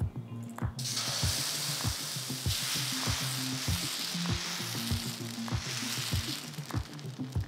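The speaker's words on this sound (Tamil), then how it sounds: "ஜஸ்ட்டு ஒரு கரண்டி மாவு எடுத்து ஊற்றிட்டு லேசாக அதை ஸ்ப்ரெட் பண்ணுங்கள்" Set dosa batter hisses and sizzles steadily on a hot griddle, a loud continuous frying crackle with a few soft scraping taps underneath.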